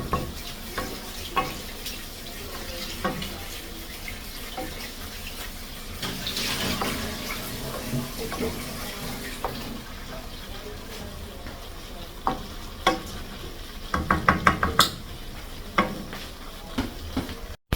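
Chicken in sauce for bar-b fried chicken sizzles steadily in a pan on the stovetop, a continuous crackling hiss broken by occasional clicks and utensil taps near the end.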